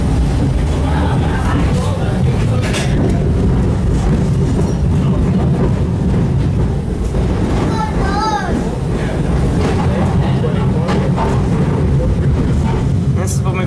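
A TECO Line streetcar in Tampa rolls past a rail yard near CSX and Amtrak tracks, a loud, continuous low rumble with a brief squealing whine partway through, heard alongside background crowd chatter.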